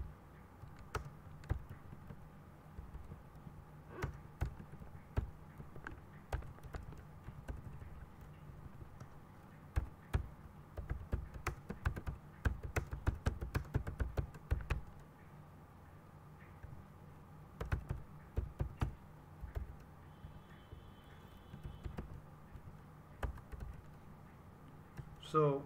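Java code is typed on a computer keyboard in steady bursts of quiet, close clicks and taps, with short pauses between runs of keystrokes.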